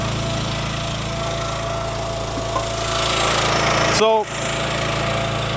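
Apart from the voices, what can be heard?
engine of Wolfe Ridge DC-10C firewood disc cleaner running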